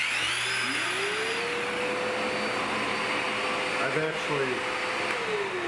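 A Festool vacuum dust extractor runs continuously with a steady whine while hooked to a Planex drywall sander, with a brief tonal shift from the tool partway through.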